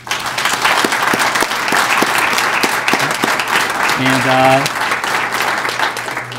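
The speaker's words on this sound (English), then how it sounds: "let's give our students a round of applause right now" Loud audience applause for graduating students at a Project SEARCH graduation ceremony, steady dense clapping throughout with a brief tonal sound partway through.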